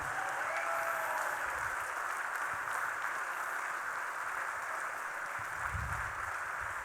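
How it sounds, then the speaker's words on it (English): Steady applause from a crowd, a continuous wash of many hands clapping at even loudness throughout, with no voices over it. "Keep clapping."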